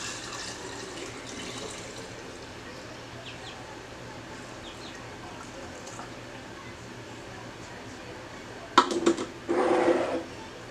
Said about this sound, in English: We're just going to fill up these jars.